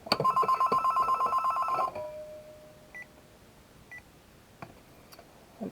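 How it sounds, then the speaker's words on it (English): A mobile phone rings with a spam call, a loud repeating electronic ring pulsing for about two seconds then cutting off, followed by a few faint beeps and clicks in a quiet room during paper crafting. "stupid phone, sorry about that. I've had problems with some spam calls."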